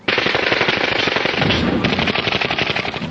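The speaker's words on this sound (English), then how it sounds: "They opened fire and the night sky was ablaze. The gunfire from the Uzi just lit up the place." Uzi machine gun fire rattles in one loud, rapid, unbroken burst lasting about three seconds, close and dominant with no voices.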